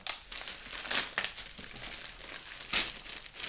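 Foil wrapping on a parcel crinkles and rustles as it is pulled open, with continuous close, crisp crackling and a few louder crunches, and no talking.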